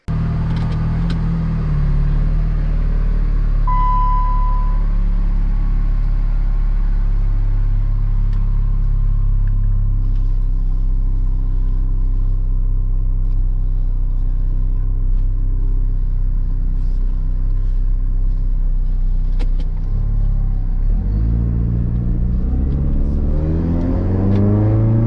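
A Chrysler PT Cruiser engine rumbles steadily while driving, with a low hum throughout and a rising rev near the end.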